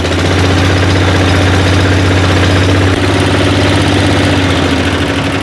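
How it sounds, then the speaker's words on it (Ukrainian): A diesel walk-behind tractor engine runs steadily and loudly close by, giving a continuous low throbbing drone with a rough knocking pulse that barely changes over several seconds. "А ось це дизель."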